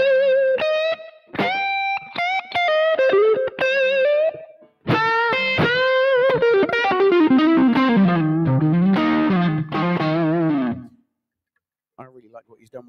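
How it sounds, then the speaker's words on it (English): Tokai Love Rock electric guitar runs through a modded overdrive pedal, sounding out driven chords and single-note runs with sustained, gritty tone, loud and close, then cutting off into brief quiet near the end. "the overdrive I'm using today It's quite a well-known pedal"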